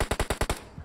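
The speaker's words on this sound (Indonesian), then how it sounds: "ada yang nembakin nih." Automatic gunfire rings out in the mobile battle royale game PUBG Mobile as a rapid burst of about six evenly spaced shots, loud and close.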